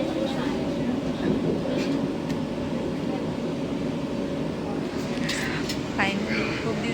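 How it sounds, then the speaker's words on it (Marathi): Interior of a moving Vande Bharat Express train, seated near the canteen: a continuous low rolling rumble with steady cabin hum throughout, a few faint clicks and brief higher tones near the end. "फायनली आम्ही आहोत वंदे भारत ट्रेनमध्ये"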